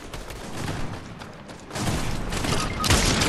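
Gunfire in the Fortnite video game comes in bursts of rough cracks and booms over game noise, growing louder in the second half.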